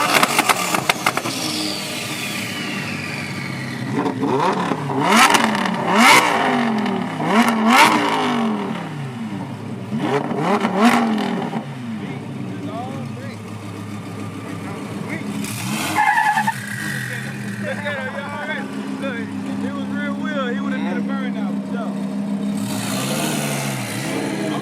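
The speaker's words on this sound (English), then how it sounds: "That's a good turbo right there." Twin-turbo Lamborghini Huracán, a roughly 1400 hp build on a supercar rally, roaring through repeated throttle bursts and tire squeals, with hissing turbo whistle and engine note close by, while people talk and react over it.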